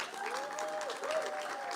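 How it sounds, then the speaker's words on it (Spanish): A church or conference audience claps for the mothers in a short, even burst of applause, moderately distant, with a faint tonal hum running underneath. "Un aplauso a las mamás"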